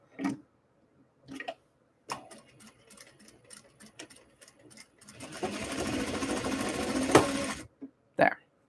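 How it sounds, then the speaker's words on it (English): A sewing machine winds a bobbin, starting with a few short stitching bursts and then running in a continuous whir for about two seconds before it stops, with scattered clicks around it. "it'll take like less than a dozen stitches to actually get it to finish winding that bobbin"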